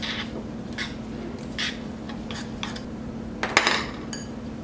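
Crisp topping for an apple crisp gets mixed in a bowl with a utensil, giving scattered clinks and scrapes over a steady background hum, with a louder cluster of clatter near the end.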